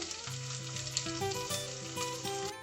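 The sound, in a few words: shallots and mustard seeds frying in oil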